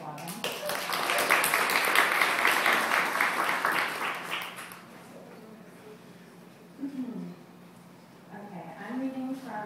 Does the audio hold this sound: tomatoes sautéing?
no